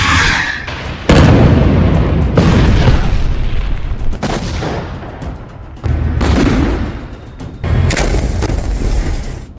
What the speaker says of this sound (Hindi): दक्षिणी लेबनान में भी कारपेट बॉम्बिंग शुरू हो चुकी है